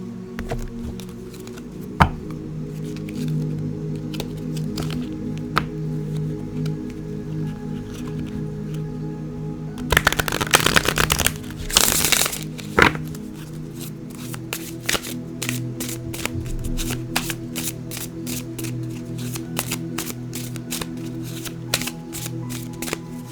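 Oracle cards are shuffled by hand in a loud, papery flurry of riffling and flapping. Soft taps and handling clicks come before and after the burst, with no talk.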